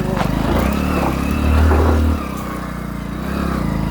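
A motorbike rides along a hilly road toward the Dhruvskavir Maharaj temple, its engine droning steadily close by, swelling with a rev midway and then settling back down.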